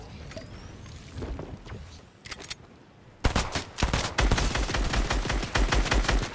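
Gunfire in the Fortnite video game: scattered shots at first, then a dense stretch of rapid, loud bursts and crackling impacts in the second half, with no talking.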